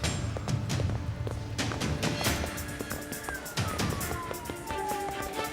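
Ambulance on its way to a hospital for a traffic accident case, a wailing siren pitch sweeping up and down amid steady street noise and scattered clatter, moderately loud throughout.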